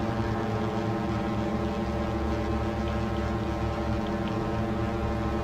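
Grumman Mallard seaplane engines in the FSX flight simulator drone steadily at cruise, a dense, constant, loud propeller hum with no breaks and no voices.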